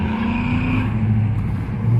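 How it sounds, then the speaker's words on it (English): Cars pass at a car meet, their engines rumbling loudly and close for a couple of seconds, with no one talking. "I might just start filming some of the cars passing by."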